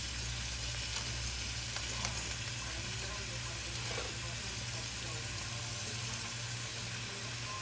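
Spaghetti noodles cooking in a pot on the stove for a stuffed shells dinner, giving a steady broadband bubbling hiss with a constant low hum throughout, with no one speaking.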